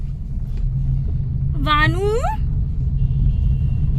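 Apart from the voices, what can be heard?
car driving, interior rumble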